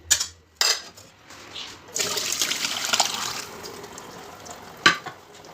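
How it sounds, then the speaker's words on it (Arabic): Meat broth for a Chaoui red-sauce chakhchoukha poured and strained through a couscoussier, a steady splashing pour of liquid running for a few seconds between brief clinks and knocks, close and moderately loud. "نصفيو المرقه تاعنا باش نلوحو الخضره والحميصه تكمل طيب"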